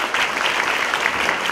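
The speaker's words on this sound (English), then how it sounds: "Please, a round of applause for our panel." Audience applause for a panel at a media conference, a steady dense wash of many hands clapping throughout, fairly loud and continuous with no voices over it.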